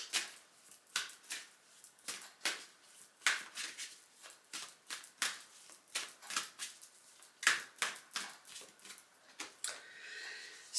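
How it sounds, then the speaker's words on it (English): A deck of oracle cards being shuffled by hand, a run of quick, crisp riffling bursts in an irregular rhythm, heard close and fairly quiet in an otherwise still room. "One more shuffle from this deck."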